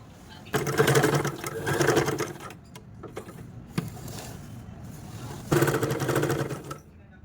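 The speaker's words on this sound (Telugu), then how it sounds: "ఇప్పుడు మెయిన్ క్లాత్ స్టిచ్ చేసుకోవాలి" A sewing machine stitches the main cloth of an umbrella dress. It runs in three loud whirring bursts separated by short pauses and quieter mechanical clicks.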